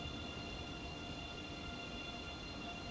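An ICE high-speed train running at full speed on the Cologne–Aachen line in the Train Sim World video game gives a faint, steady rolling rumble with a constant high whine, without pauses or talk.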